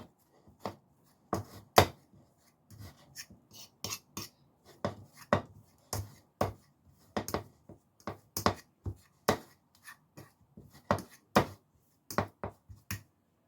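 Boiled egg yolks are mashed with a utensil, producing a steady series of short sharp taps and clacks against a bowl, close and distinct in a quiet room.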